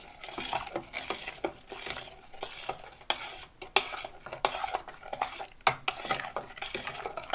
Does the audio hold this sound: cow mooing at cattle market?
no